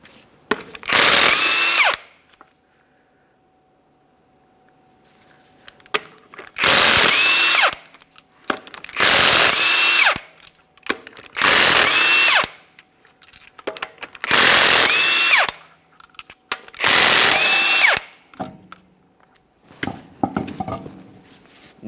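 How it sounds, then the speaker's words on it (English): Power tool spinning off the six 22mm lug nuts on the front wheel of a 2017-2023 GMC Acadia raised off the ground, in six loud bursts of about two seconds each separated by short quiet gaps. "remove all 6 of your 22mm lug nuts and then the wheel"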